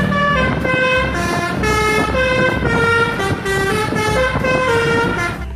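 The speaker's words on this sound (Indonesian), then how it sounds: "Lihat, ini ada mobil pemadam kebakaran." Toy fire truck siren blaring loud and close in a repeating two-tone wail with a horn-like toot, steady and continuous with no talking over it.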